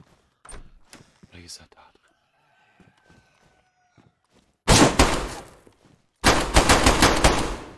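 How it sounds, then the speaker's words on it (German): Gunfire in the survival game DayZ: after some scattered soft clicks and knocks, two loud bursts of rapid shots erupt, the second longer and sustained, close and harsh. "Wo schieß ich denn hin?"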